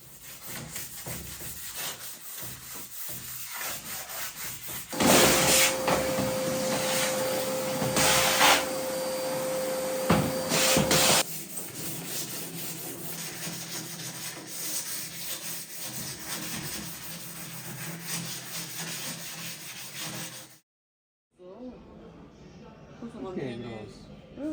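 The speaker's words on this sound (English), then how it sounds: "She is sanding them well in preparation of applying the first layer of primer." Wooden doors are sanded before primer, with steady rubbing and scraping strokes and bursts of a whirring machine, under occasional talk; the noise stops abruptly near the end.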